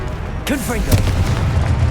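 A Confringo blasting-spell explosion in the video game Hogwarts Legacy, a single loud booming burst with a crackling tail, mixed with fast whooshing spell effects and a low rumbling bed.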